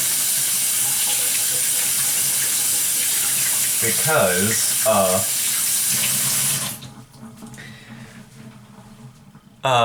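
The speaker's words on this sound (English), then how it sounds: "let me wash my hands" A tap runs steadily into a sink while hands are washed, a loud close hiss of flowing water with a person speaking briefly over it, before the water shuts off and a quieter room remains.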